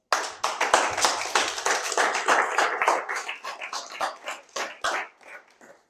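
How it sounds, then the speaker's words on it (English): An audience claps at a talk on breaking generational curses, a dense burst of many hands that thins out toward the end into scattered claps. "give a round of applause to yourselves"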